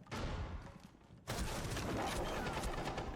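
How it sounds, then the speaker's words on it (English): Rapid gunfire in a competitive Rainbow Six Siege match, with dense bursts of shots, a brief lull, then a sharp burst that resumes loud and sustained through the end. "Ooh, nice shot by Hornet onto Palu"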